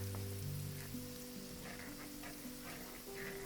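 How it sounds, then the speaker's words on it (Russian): Garlic with a knob of butter fries in a pan, giving a soft, steady sizzle like light rain that runs the whole time under quiet background music. "Отправляю чеснок в сковородку с кусочком сливочного масла и обжариваю буквально 30 секунд"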